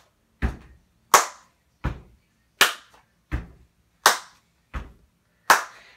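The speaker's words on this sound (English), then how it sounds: "So I want you to stomp, clap, stomp, clap, stomp, clap, stomp, clap." A steady stomp-clap beat for a children's song: eight sharp hits alternate between a thudding foot stomp and a bright hand clap, evenly spaced about two-thirds of a second apart, close and clear with silence between.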